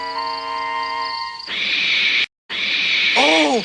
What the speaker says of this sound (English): It was only an owl